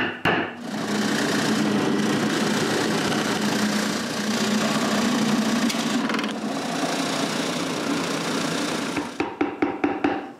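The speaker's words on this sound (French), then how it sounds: "c'est le retour à perceuse à colonne" A drill press bores pilot screw holes into a wooden piece for a woodworking project, a loud steady motor whir with grinding bite, then the spindle stops and a few sharp knocks follow.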